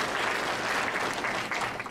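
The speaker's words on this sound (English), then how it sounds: "I would like to ask for a round of applause for all of them" Audience applause honoring student participants at a forest industry lecture, a dense steady round of clapping that fills the short span at moderate level with no talk over it.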